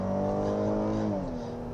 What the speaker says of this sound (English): You can hear the engine working a little bit